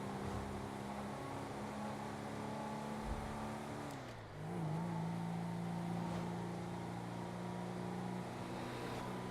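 A car driving around in an open-world survival video game, a continuous engine drone with a brief dip and shift in pitch midway, steady and loud throughout with no speech.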